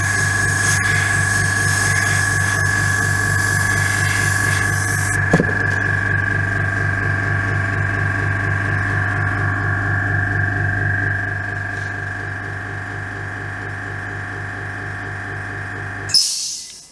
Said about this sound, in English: Thank you, compressor.